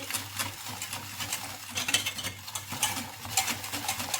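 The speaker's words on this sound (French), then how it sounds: "On mélange vraiment vigoureusement pour bien que les deux se mélangent." Cream and caramel whisked vigorously off the heat for mini caramel chocolate tartlets, a rapid continuous swishing and scraping with faint utensil clinks, close and without speech.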